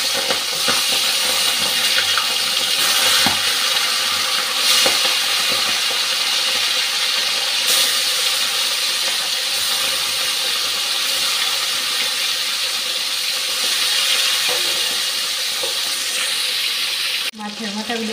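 Fish rubbed with salt and turmeric frying in hot oil, a loud, steady hissing sizzle that runs unbroken at close range.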